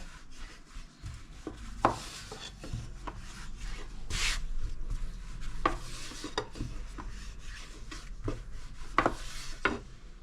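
Floured Turkish yufka dough is rolled out by hand with a thin wooden rolling pin, giving soft repeated rubbing strokes and occasional light taps against the board, close and fairly quiet with no talking.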